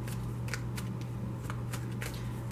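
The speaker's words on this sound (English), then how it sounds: "so I'm only going to shuffle it for a moment" A deck of tarot cards is shuffled briefly and quietly, with soft papery riffles and light taps in a calm indoor room.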